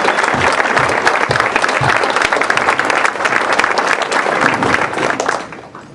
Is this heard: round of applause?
yes